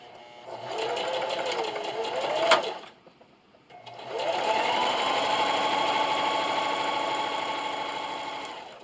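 A home sewing machine runs a seam along the top of a burlap garden flag, humming steadily and close up, pausing briefly near the middle before starting again for a longer continuous run.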